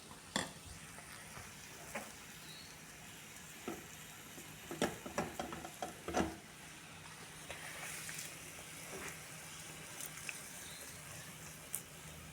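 Shallots and curry leaves sizzle in hot coconut oil, a steady crackling hiss with scattered sharp pops, alone and close by, as the tempering is poured into a fish curry.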